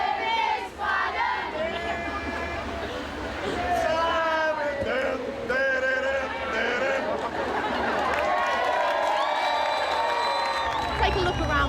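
A huge crowd gathers in Liverpool streets for La Machine's giant mechanical spider event, loud and sustained cheering, whooping and shouting filling the air, with voices chattering close by.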